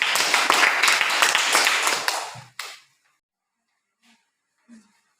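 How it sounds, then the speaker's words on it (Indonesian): A classroom group claps hands together after a student presentation, a dense burst of applause lasting about two seconds that fades out, followed by near silence with a few faint soft taps. "kita tepuk tangan dulu"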